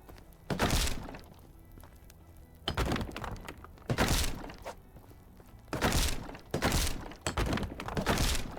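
A house is torn down in the game Medieval Dynasty, heard as repeated heavy thunks and crunching breaks arriving in separate bursts, loud and close, with no speech over them.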